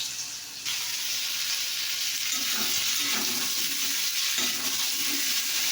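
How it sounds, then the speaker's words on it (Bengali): Cut potatoes drop into hot oil and a loud, dense sizzle bursts up and then holds steady and close, with a few soft stirring bumps underneath. "এবারে আলু কাটা ফেলবো।"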